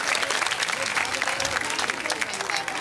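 Audience applause at a Bhagavat katha religious gathering in Noida, a dense, steady burst of many hands clapping that fills the whole moment with no pause.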